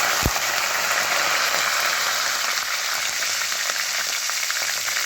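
Cumin seeds and curry leaves sizzle hard in hot oil in a pan, a loud, dense, continuous crackling hiss with a faint click near the start.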